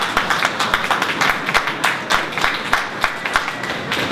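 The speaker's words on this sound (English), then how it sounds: "So they deserve a round of applause." A crowd at an outdoor mural unveiling in Norwich applauds with steady, dense clapping that carries on evenly from start to finish, fairly loud and close.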